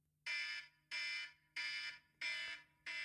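A podcast timer alarm sounds after its five-minute countdown: five loud, evenly spaced bright electronic bursts, each about half a second long, separated by short gaps, alone with no voices.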